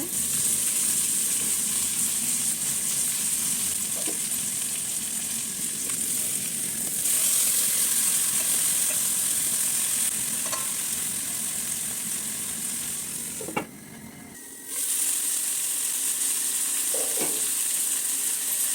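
Tandoori chicken fries in oil in a pan at home, a steady close sizzle and crackle that runs throughout with a few scraping touches and a brief dip near the end, with no talking.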